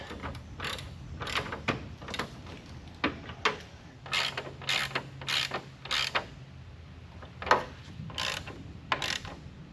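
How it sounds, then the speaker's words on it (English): Ratchet clicks in short repeated bursts as bolts are driven in while installing an aftermarket armor grille with off-road lights on a 2019–2021 GMC Sierra 1500 pickup, close and fairly loud, with pauses between runs and no talk. "now we can put in our bolts"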